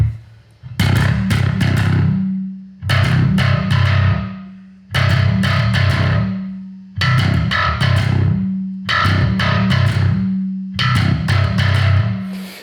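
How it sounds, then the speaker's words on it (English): A bass guitar struck with a stick through heavy distortion, playing six loud, evenly spaced gritty phrases with harsh, nasty overtones and a sustained low tone between hits. "I'm actually also playing that on the bass with a stick, with a somewhat similar sound on this."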